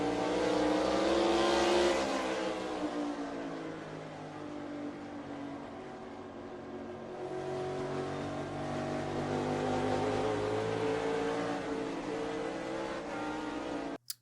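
Race cars on the final lap, heard from Kyle Larson's onboard camera: a loud, sustained engine roar that rises and falls as the car accelerates and lifts, with other cars faintly around it, and no voices.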